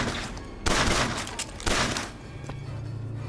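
A rapid volley of gunshots in Bioshock Infinite, with two dense, loud bursts about a second apart followed by a quieter low hum.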